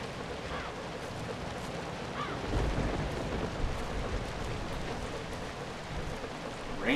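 Steady rain patters across the whole stretch in the video game ZombiU on Wii U, with a low rumble swelling in the middle and a few faint clicks over it.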